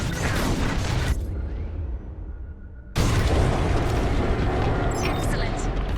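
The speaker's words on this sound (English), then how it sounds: "On my mark, it's bombs away." Bombs detonate in Star Wars Squadrons space combat: a dense blast of noise cuts off into a quieter lull, then a heavy booming explosion crashes in and rumbles on, with voices over the action.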